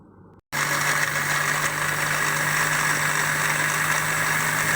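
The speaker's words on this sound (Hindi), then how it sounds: "इसको कवर करेंगे और अच्छी तरह से ब्लेंड कर लेंगे" A blender whirring a fruit drink of sugar and orange juice: after a brief quiet start, the motor kicks in with a loud, steady high-pitched drone that runs unbroken to the end, alone with no talking.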